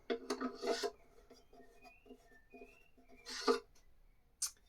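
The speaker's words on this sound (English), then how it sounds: "I'm just going to use my mandrel, which is just like a reamer but with no cutting blades, to just compress the holes once more." A mandrel, a bladeless reamer, is twisted to compress peg holes in violin wood, making soft rasping, squeaky rubbing strokes in a few close bursts with quiet pauses between.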